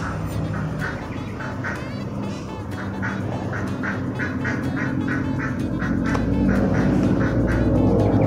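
Ducks quack repeatedly in a steady, busy chorus, close by, over a low rumbling background that grows slightly louder toward the end.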